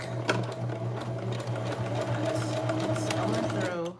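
A sewing machine pushes through thick denim jeans being remade into a jacket, humming in one continuous close run for about four seconds with a voice faintly underneath.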